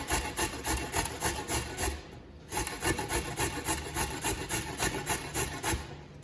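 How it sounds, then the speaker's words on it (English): A carrot is grated on the large side of a grater in steady rhythmic rasping strokes, close and loud, with a brief pause midway before the scraping resumes. "While that's going, I'm going to grate my carrot."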